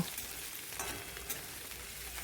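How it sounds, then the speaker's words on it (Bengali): Green chillies and ginger being stirred as they fry in a pan for khichuri, heard as a faint, steady sizzling hiss with light scraping, with no voices. "তারপরে 4টে কাঁচা লঙ্কা দিয়ে দেবো, মাঝখানে চিড়ে রেখেছিলাম, দিয়ে একটু ভালো করে নাড়াচাড়া করব"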